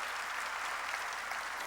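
Steady, dense clapping from a church congregation fills the space evenly from start to end, many hands blending into a continuous wash at moderate distance, with no single voice standing out.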